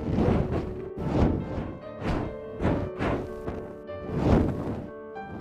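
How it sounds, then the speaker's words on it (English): Dragon wing flaps built from fireball sounds: a steady series of about six deep, whooshing thumps, each swelling and fading in a slow rhythm, close and full with no speech. "anytime you hear a dragon flapping his wings, it's actually the sound of a fireball"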